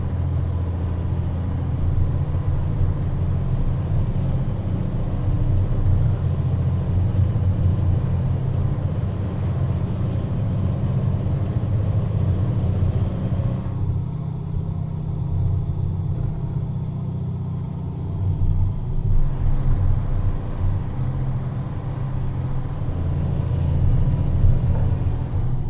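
A heavy truck in a driving simulator game makes a low, steady engine rumble with a continuous drone. The sound holds an even level throughout and rises a little toward the end.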